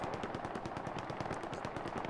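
Machine gun fire in the World War II shooter Hell Let Loose during an 18 vs 18 tournament match, a rapid, steady stream of sharp shots that is loud and sustained, with no voices.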